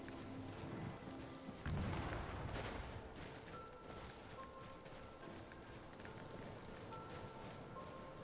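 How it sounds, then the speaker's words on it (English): A sudden loud explosion booms once in Skyrim, a heavy low blast that rises abruptly then fades into ongoing game ambience and scattered combat noise. "Where'd that explosion come from?"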